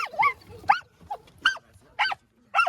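Rescued puppies giving a quick run of short, high yaps and barks, about five brief calls spaced across a few seconds, close by and alone without talk.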